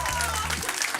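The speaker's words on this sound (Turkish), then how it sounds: "Alkışlıyoruz hanımefendiyi tekrar." A crowd at a quiz night applauds a woman, with dense, loud clapping that fills the whole second while someone speaks over the start of it.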